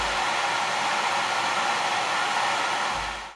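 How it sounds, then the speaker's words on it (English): Cooling fan of a Longer Orange 10 resin 3D printer giving a steady, loud broadband whoosh like a hair dryer, close and continuous, tapering slightly at the end, with no voices. "that is the noise of the cooling fan"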